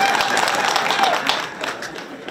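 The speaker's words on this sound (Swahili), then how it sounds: "Piga makofi tafadhali." Audience applause at a ward councillor's event in Nkinto, Mkalama, a steady wash of many hands clapping, moderately loud, fading slightly toward the end.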